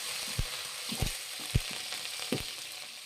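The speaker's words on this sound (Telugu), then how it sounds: "ఏంటి కూర ఫ్రై చేస్తానవా?" Curry fries quietly in a pan, a soft steady sizzle broken by four or five low stirring knocks.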